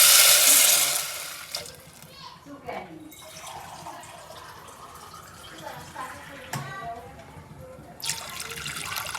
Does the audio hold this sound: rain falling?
no